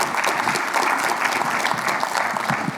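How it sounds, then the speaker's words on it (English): A conference audience breaks into steady, dense applause for the event organizers, many hands clapping together at close range with no talk over it. "I think it deserves a round of applause."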